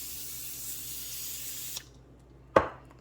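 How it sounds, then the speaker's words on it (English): Cooking spray hissed onto small baking pans, one steady spray lasting nearly two seconds, close and clear, followed by a sharp knock of the can or pan. "I'm using these small pans to bake, and I'm using this spray."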